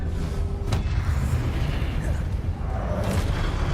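Confringo blasting spell exploding in the PC game Hogwarts Legacy, a loud booming burst with rumbling low end and a sharp crack, followed by continuing battle noise.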